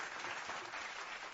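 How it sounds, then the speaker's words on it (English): Steady wash of applause from a crowd, continuous and fairly even throughout, at a moderate distance. "I'll give myself an applause."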